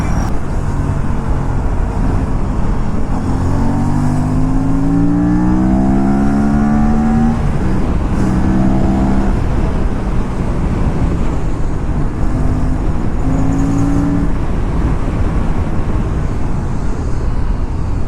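An Aprilia RS 457 motorcycle being ridden through city traffic, its engine steady and close as it revs up and down in rising and falling sweeps, with surrounding road noise and no talking.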